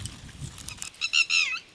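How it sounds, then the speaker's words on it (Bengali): Birds chirp outdoors while spinach plants are being picked; after a low rustle, a few short, clear, bright calls come close together near the end, moderately near. "পাখি ডাকছে।"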